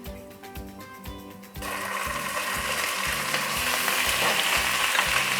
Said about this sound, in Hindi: इसको हल्का सा फ्राई कर लेंगे।